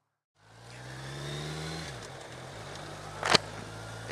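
A car starts up and pulls away, its engine climbing in pitch as it accelerates, easing off briefly, then revving again, with a sharp clunk and a burst of noise near the end.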